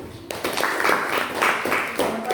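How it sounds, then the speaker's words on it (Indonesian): A classroom audience applauds group 1, a burst of clapping that starts abruptly and continues steadily in rhythmic pulses, fairly close and alone. "kita berikan tepuk tangan yang meriah kepada kelompok 1"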